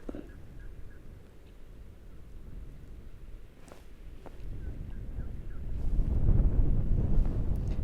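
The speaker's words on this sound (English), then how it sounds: "A little bit of wind here," Wind at an outdoor shooting range, a low, rumbling rush against the microphone that builds steadily and grows loudest toward the end, with faint brief ticks along the way.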